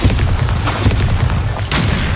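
A Bombarda spell explosion in Hogwarts Legacy: a loud, close booming blast with rumbling low thuds that fill the whole short moment, heard alone without speech.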